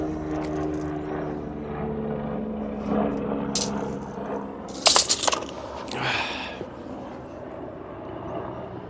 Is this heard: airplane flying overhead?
yes